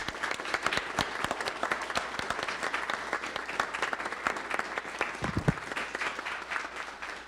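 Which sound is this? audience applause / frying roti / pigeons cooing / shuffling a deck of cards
audience applause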